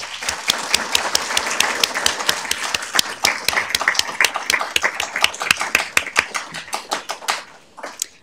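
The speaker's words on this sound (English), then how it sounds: "So please give them a huge round of applause." A city council chamber audience gives loud applause for the police and fire departments, dense clapping with distinct sharp individual claps throughout, tapering off near the end.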